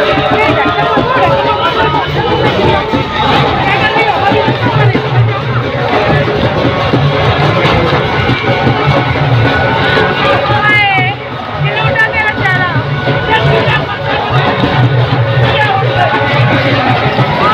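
A large crowd of devotees packs the Holi festival in Raval, their dense babble and shouting filling the air loudly and steadily, with bursts of cheering throughout.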